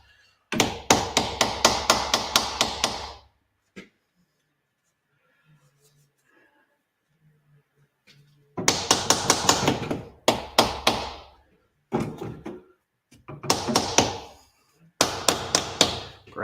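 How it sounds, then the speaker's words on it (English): Hammer pounding on loose motor parts during an engine teardown, rapid bursts of sharp metallic strikes near and loud, a long quiet gap, then several more volleys of fast blows. "Perhaps I need a bigger hammer."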